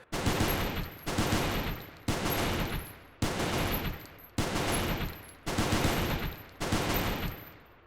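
Mech gunfire in the Goobstation video game comes as seven heavy bursts, each about a second long, fired in a steady, evenly spaced rhythm, loud and close with no talk over it.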